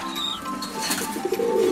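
A pigeon in a cage made from a fruit crate coos softly nearby, a brief low murmuring call with faint chirps in the background.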